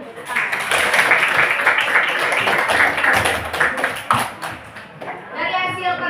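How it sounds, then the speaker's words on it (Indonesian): A group of schoolchildren claps in a classroom after performing groups present their work, a dense, steady round of hand clapping lasting several seconds before tapering off, with a voice briefly heard at the end. "Kasih tepuk tangan."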